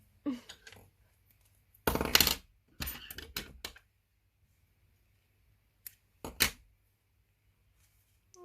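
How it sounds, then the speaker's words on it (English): Scissors cut crochet yarn on a small amigurumi bunny pacifier clip, giving a handful of short, crisp snips and clicks up close, separated by quiet gaps. "now just hide your yarn and cut it"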